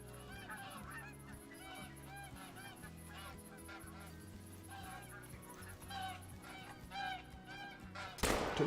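Repeated goose honks from decoy birds in a waterfowl hunting game, layered over a steady background bed, ending in a sharp loud burst.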